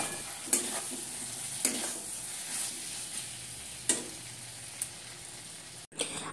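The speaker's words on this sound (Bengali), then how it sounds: "এদিকে এই যে ভেন্ডি আলুর তরকারিটা বসিয়েছি" Okra and potato curry cooks in a pan with a quiet, steady sizzle, broken by a few sharp scrapes and clinks of stirring, close by and alone.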